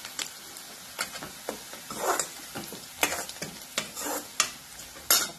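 Onion roasting in a pan for chavali usal, a soft frying sizzle broken by repeated sharp scrapes and taps of a spoon stirring, irregular and close, with no speech.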